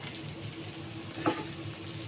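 Food frying slowly in a pan for a Bengali Sunday rice dish, a steady low sizzle throughout with one brief clink or stir near the middle.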